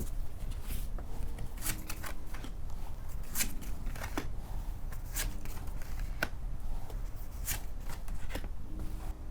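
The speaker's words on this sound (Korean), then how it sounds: "먼저 웨이트 타로 카드부터 제가 뽑아볼게요." Waite tarot cards are shuffled and drawn with crisp riffling and snapping card sounds at a steady pace, close and clear over light background hiss, with no talk.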